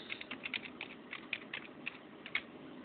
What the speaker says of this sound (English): you type in Mozilla Firefox